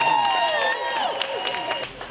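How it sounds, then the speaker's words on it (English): Applause and cheering from a crowd greeting World War I veteran Frank Levingston on his arrival in Washington, D.C., a steady wash of clapping and voices that continues throughout. "the applause didn't stop as people wanted to pay their respects to such a remarkable man"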